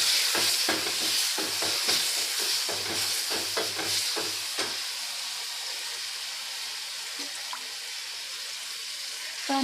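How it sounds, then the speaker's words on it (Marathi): Pumpkin and chana dal tempered in a pan: a few seconds of clattering spoon strokes over a hiss, then a steady, fairly quiet sizzle on its own. "आता आपण भोपळा आणि हरभऱ्याच्या डाळीला फोडणी देऊन घेऊ"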